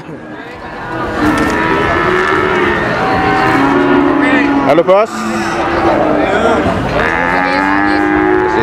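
Limousin breeding cattle at the Wage cattle market in Pati, with lowing and moos rising through a dense, steady din of livestock, crowd noise and a passing engine, while someone talks over it throughout.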